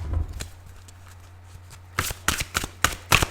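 Tarot cards being shuffled, a soft riffling texture first, then a run of sharp, close card snaps and flutters in quick bursts toward the end; no one talks.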